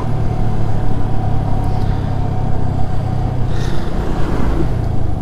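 A motorbike rides along a muddy road in rain and dense fog. A steady mid-pitched engine drone holds close and loud throughout, with slight fluctuations in rhythm.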